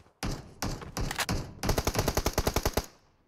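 Gunfire in the PUBG Mobile battle royale game: a few separate loud shots or short bursts, then a rapid run of about a dozen evenly spaced automatic shots, close and with no voices over them.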